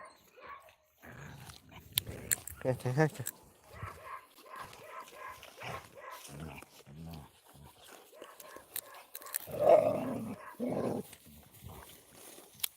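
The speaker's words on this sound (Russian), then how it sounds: "просто бездомна собака, вона до Біма часто цього, до Біма, до Тузіка часто прибігає гулятися" A stray dog barks a few times, faint and somewhat distant, among quiet talking voices.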